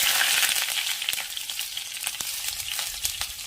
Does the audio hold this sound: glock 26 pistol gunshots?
no